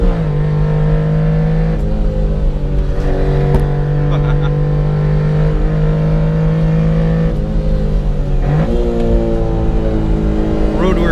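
A 1991 Honda Beat kei car's small engine revs repeatedly, the pitch climbing and settling in several pulls, loud and close, with a voice speaking over the engine now and then.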